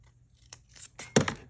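Scissors snip through fabric tape, cutting out shapes: a couple of light, crisp cuts close by, ending in a louder double snip, with no talking.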